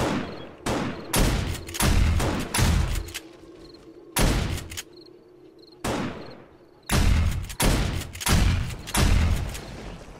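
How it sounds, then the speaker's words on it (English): Shotgun turrets in the video game 7 Days to Die blast at zombies in loud, rapid bursts of overlapping shots, with brief lulls between volleys and a faint insect-like chirping underneath. "let's watch the shotgun in action"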